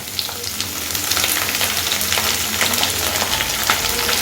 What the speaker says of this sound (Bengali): পেঁয়াজটাকেও অল্প কিছুক্ষণ সময় নিয়ে আমি একটু ভেজে নেব